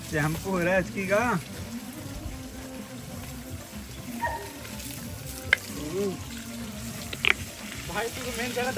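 Water splashes and trickles while a Labrador is bathed, with voices talking over it at the start and short sloshing bursts later.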